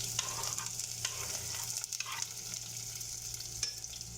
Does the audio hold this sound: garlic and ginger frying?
yes